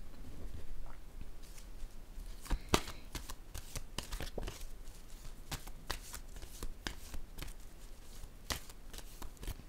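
Tarot cards being shuffled by hand, a close, dry riffling patter of card edges repeating in quick bursts with a couple of sharper slaps, no voices over it.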